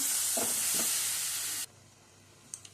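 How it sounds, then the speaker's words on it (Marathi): Jaggery syrup cooks on a full gas flame: a loud, steady bubbling sizzle with a few soft stirring scrapes. It cuts off abruptly partway through and leaves a quiet room with a couple of faint clicks. "छान असं गहू गुळ मस्त गुडाचा पाक होता आहे मस्त"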